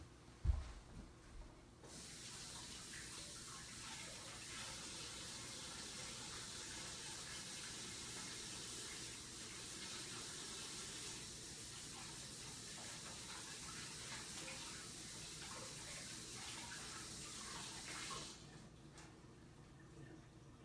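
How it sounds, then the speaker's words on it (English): A water tap runs for hand washing, a steady hissing gush starting after a brief knock and stopping near the end, fairly close and without talking. "I'll be washing my hands, so I'll be right back."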